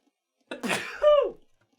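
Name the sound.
sneeze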